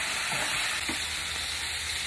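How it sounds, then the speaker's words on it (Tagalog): Meat sautéing in a pan for ginisang monggo, a steady broadband sizzle throughout with a couple of brief stirring scrapes, close and fairly loud, no talking. "Gisa-gisa lang natin yung karne hanggang sa mag-brown."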